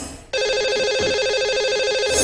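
A telephone line starts ringing abruptly as a radio show places a call to a lucky caller, a steady electronic ring tone that sounds loud and continuous after a brief quiet start.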